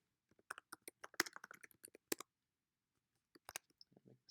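Close, crisp keystrokes on a computer keyboard while writing Python code, coming in quick uneven bursts, then a pause of about a second before a few more taps and clicks.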